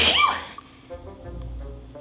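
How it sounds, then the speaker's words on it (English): A single close sneeze bursts out sharply at the start, followed by a quiet breath and low rustling. "I have a sneeze coming."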